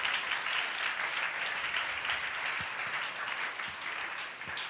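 A congregation at a Tamil church sermon claps together in a steady, dense wash of applause that holds evenly throughout, fairly distant and without speech over it.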